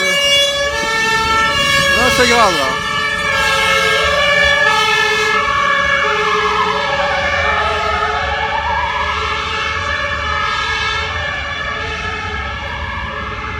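A fire engine siren passing close by, loud wailing tones rising and falling over the rumble of a truck engine, with a person briefly talking under it.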